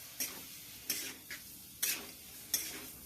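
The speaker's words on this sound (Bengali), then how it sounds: "এবার মা এটা নাড়ছে।" Cauliflower curry being stirred in a wok: five separate scraping clanks of a spatula against the pan. They come at irregular intervals over a soft background hiss.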